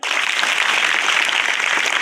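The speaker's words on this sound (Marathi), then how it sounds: "टाळ्या वाजवा" Audience applause at a school quiz event, a dense, steady burst of many hands clapping together, close and loud for the whole span with no talk over it.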